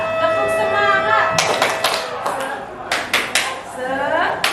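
Rhythmic group clapping chant at a teachers' ice-breaker, a few crisp clustered claps spaced in a pattern, with voices and background room noise between them.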